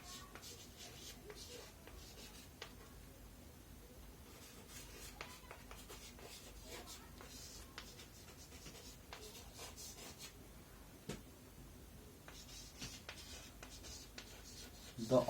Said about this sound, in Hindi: इसका डेफिनेशन लिखते हैं।